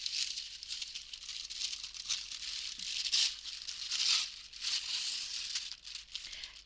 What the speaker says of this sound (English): I'm sorry about the noise, I'm just going to cut.